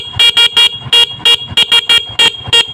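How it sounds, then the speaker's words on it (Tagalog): An old car horn honks repeatedly in short, blaring toots with uneven spacing, close and piercing. "yung busina po niya, kahit luma po itong busina po niya is malakas pa rin"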